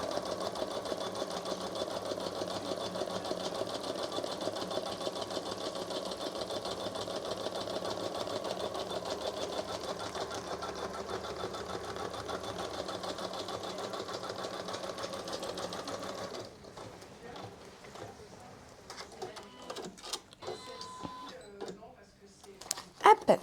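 Janome Memory Craft 1000 embroidery machine stitching in a steady, fast mechanical whir, then cutting its thread and tying off with a few sharp clicks and taps, quiet and close, while someone talks over it.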